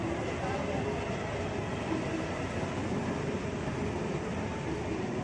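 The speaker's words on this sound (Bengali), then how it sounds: "এই যে ট্রেনটা কত সুন্দর চলে যাচ্ছে" A train rolls past at a Christmas outing in Thakurnagar, a steady, loud, broadband rumble and rush that holds unbroken throughout, with no distinct clatter rising above it.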